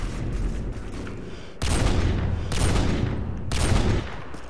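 Gunfire in Modern Warfare 2: loud bursts of rapid automatic fire come in about three close, repeating volleys, each a dense crackling barrage with booming low end and short gaps between.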